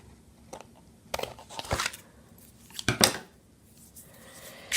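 An excess piece is trimmed off a paper craft project with several close, crisp snips in an uneven rhythm, alone without talking.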